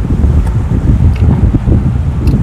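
Gusty wind buffets the microphone in low, uneven rushes, loud and close, with no voices.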